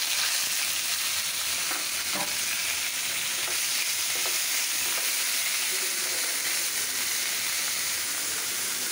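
Red amaranth leaves frying in a pan, giving a steady, soft sizzling hiss with occasional light stirring scrapes throughout.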